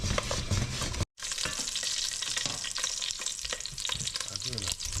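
Tomatoes roast in a hot pan with jalapenos, a loud close sizzle and crackle with stirring scrapes, interrupted by a brief silent gap before the frying noise resumes.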